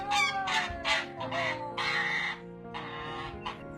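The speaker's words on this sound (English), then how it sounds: "Looks like you're being attacked by an angry goose." An angry goose honks in a series of loud, harsh repeated calls while attacking a woman, the blasts coming close and fairly rhythmic.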